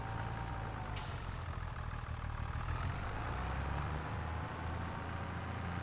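A tractor engine in the Farming Simulator video game, a steady low idling drone that holds at a constant level throughout with no speech over it.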